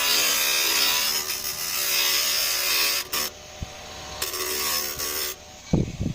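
A homemade angle grinder works on finishing a homemade room heater, giving a harsh, gritty grinding rasp in loud sustained passes broken by brief stops and a few knocks.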